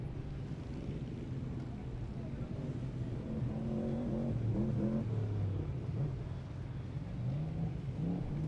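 An off-road race car on the Jeep Proving Grounds short course at King of the Hammers accelerates, its engine rising and revving in a moderate-distance drone over the faint murmur of the surrounding crowd.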